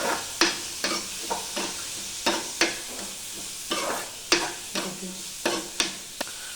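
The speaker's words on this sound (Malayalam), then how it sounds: "അടുത്തത് നമുക്ക് വേണ്ടത് ഉള്ളി, വലിയ ഉള്ളി ആട്ടോ. നമുക്ക് നല്ല ഇളക്കി കൊടുക്കാം." Sliced large onions fry in a pan with crushed garlic and ginger, a steady sizzle broken by about a dozen sharp scrapes and clacks of a spoon stirring against the pan, close and fairly loud, no voices.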